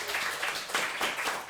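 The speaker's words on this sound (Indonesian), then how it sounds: "Tepuk tangan gitu ya" Audience applause in a short, dense burst of clapping with slight surges, fairly close and steady, no voices standing out.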